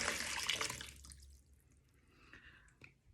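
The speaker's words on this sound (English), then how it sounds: "we're going to spin the bottle around like so, and then" Water draining out of a spun bottle into a whirlpool, opening with a close, splashy gush that fades after about a second into faint, sparse drips and trickles, with no voices.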